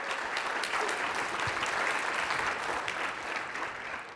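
Audience applause breaks out at a corporate presentation on urban transportation, a steady, dense clapping from a large crowd that fills the whole moment without any voices on top.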